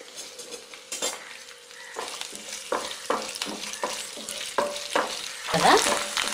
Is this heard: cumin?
yes